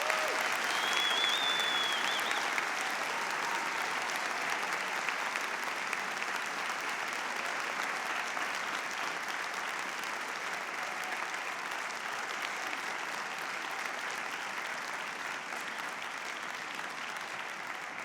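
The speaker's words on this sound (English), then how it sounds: "How about one more round of applause for these spectacular ladies?" Audience applause after a school all-county chorus concert performance, a sustained, even wash of many hands clapping that carries on steadily for a long stretch with little change.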